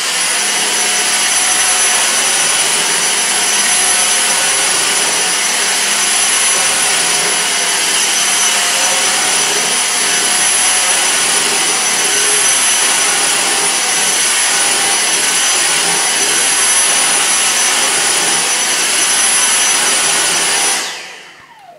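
Dyson V6 cordless stick vacuum running on max mode, a loud, steady high-pitched motor whine and airflow roar held continuously while it passes back and forth over a floor, then cutting off abruptly at the end.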